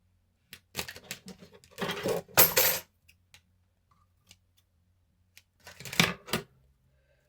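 A scrapbooking 3D surprise gift box with ribbon is handled and turned over on a tabletop, giving close bursts of papery rustling and light tapping clicks separated by quiet gaps.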